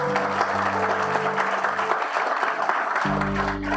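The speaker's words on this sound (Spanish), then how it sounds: "Démosle un aplauso a Dios." Congregation applauding in a church service, steady dense clapping with sustained organ or keyboard tones held underneath, fairly loud and close.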